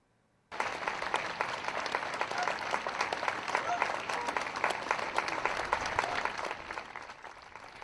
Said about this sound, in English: outside the Supreme Court, a growing crowd with a round of applause for the late justice